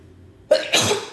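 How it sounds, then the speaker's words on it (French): A single sharp sneeze bursts out close by, a quick intake followed by a forceful two-part expulsion, loud against a near-silent room. "je sentais que j'allais éternuer"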